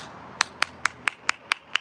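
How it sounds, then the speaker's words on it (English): Seven sharp hand claps at an even, steady rhythm, close and distinct against a quiet background. "maybe I have to clap"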